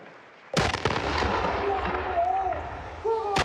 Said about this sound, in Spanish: Estos disparos de salva marcaron un giro en la política de seguridad y defensa del país.